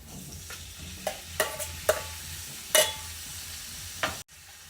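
Meat cooking in a pan for Filipino adobong okra, a steady sizzle with several sharp scraping stir strokes from a utensil, close and fairly loud, no talk.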